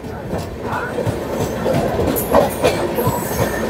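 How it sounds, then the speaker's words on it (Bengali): The 13009 Doon Express rumbles steadily along the rails departing Ayodhya station, with rhythmic clatter and faint squeals, close and continuous, with some murmured voices in the background. "এই এখন ছাড়লো আমাদের ট্রেন অযোধ্যা স্টেশন থেকে"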